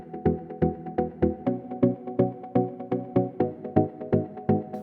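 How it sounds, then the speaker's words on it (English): A plucked synth chord pattern from a DJ remix production repeats in a steady bouncing rhythm of short, sharp stabs, each decaying quickly, loud and alone throughout with nothing else heard. "And I added this pluck chord, this one."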